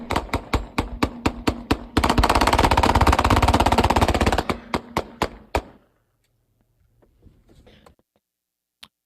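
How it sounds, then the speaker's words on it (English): Rapid bursts of automatic gunfire from a Glock pistol fitted with a switch: sharp repeated shots, then a long sustained stream of fire, more single shots, and quiet with a few faint distant pops. "you'll just hear the automatic gunfire with the Glock switch"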